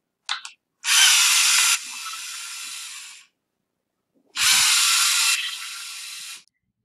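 LEGO Mindstorms EV3 robot motors whir up in two separate bursts, each a loud, close mechanical buzz that runs a couple of seconds and then cuts off sharply, with silence between and no talking.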